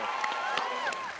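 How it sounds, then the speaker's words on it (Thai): A Thai television game show studio audience claps and cheers, steady crowd applause with voices mixed in over it. "ขอเสียงปรบมือก่อนดีกว่านะครับ"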